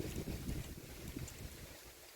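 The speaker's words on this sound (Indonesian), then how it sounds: "ini disaksikan alam raya ini, angin bertiup sangat kencang" Strong wind blowing outdoors, buffeting the microphone with loud, gusty rumbling and a broad rushing roar throughout, without any voices.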